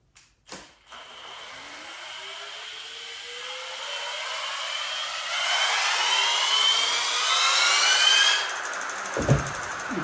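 A bicycle wheel spun up on a turntable gives a rising whir that climbs steadily in pitch and loudness over several seconds, with a brief clunk at the start and a knock near the end.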